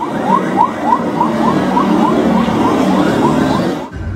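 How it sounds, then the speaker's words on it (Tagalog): A loud ship siren from China Coast Guard vessel 5303 wails in a steady repeating rise-and-fall pattern over a low rumbling engine and background noise, cutting off abruptly near the end. "binasag ang katahimikan ng malakas na tunog ng sirena mula sa CCG vessel 5303"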